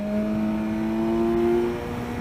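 A motorbike accelerates to overtake on a New Zealand road, its engine note a steady, moderately loud hum rising slightly as it pulls past, heard alone without talk.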